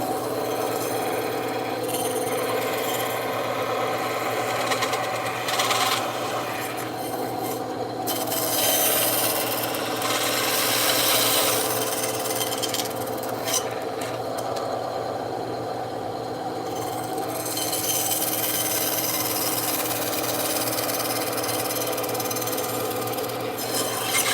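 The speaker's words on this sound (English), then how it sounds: "So shaving it down. Shaving it down." EVA foam for a Mandalorian helmet shaved down with a power sanding tool, giving a loud, close, continuous rasping grind that swells and eases slightly throughout with no talking.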